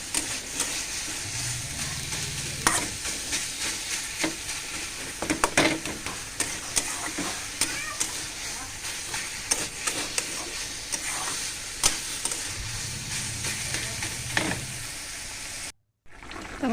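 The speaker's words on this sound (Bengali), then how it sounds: "বাজিটা নামায় আমি তরকারিটা রান্না করে নেব" Curry cooking in a pan while being stirred, with a continuous sizzle broken by repeated scraping and clinking strokes of the spoon, close by, ending with a short dropout.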